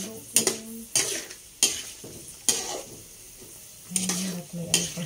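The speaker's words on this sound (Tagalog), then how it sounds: "Haluin lang po ng haluin." Food frying in a pan is stirred in a series of sharp scraping strokes, roughly six bursts over a steady low sizzle, close and clear with no talking.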